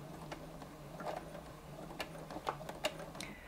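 A Brother Innov-is 15 sewing machine stitches in reverse, making a soft mechanical whir with faint irregular clicks and ticks, quiet and close.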